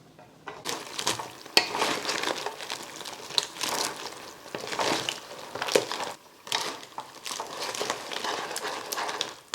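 Black pepper crab made with Australian blue swimmer crabs, stirred in a pan: a continuous rough crunching and scraping of shells against metal with uneven bursts, close and moderately loud, with no speech.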